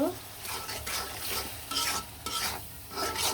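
Fish and onions stir-fried with spices in a pan, a continuous close sizzle with repeated scraping stirs of the spatula roughly every half second, no talking.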